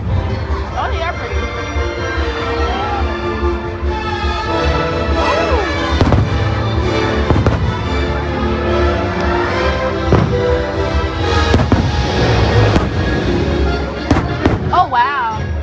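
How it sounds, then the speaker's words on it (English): Fireworks show at Disney's Magic Kingdom, with repeated booms and crackling bursts at irregular intervals, heard from a distance under people talking nearby. "You want to see the fireworks?"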